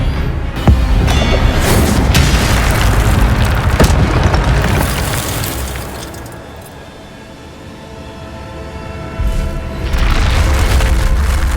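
Heavy booming spell blasts and explosive bursts rumble in a magical action game, loud and dense at first, easing to a quieter lull, then surging again near the end.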